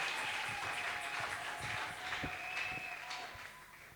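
A church congregation applauding, with dense, sustained clapping that fades slightly toward the end, in a reverberant hall.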